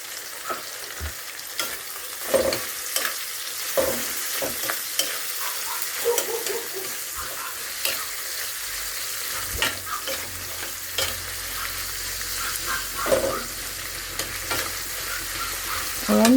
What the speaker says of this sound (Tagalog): ihalo na natin ang kamatis sa dilis